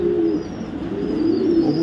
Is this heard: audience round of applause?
no